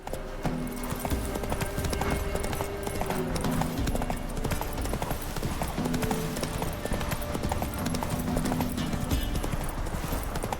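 Horse hooves clip-clop steadily on the ground as the horse Roach trots through The Witcher 3 game, the rhythmic footfalls running throughout over a dense bed of game music and ambience.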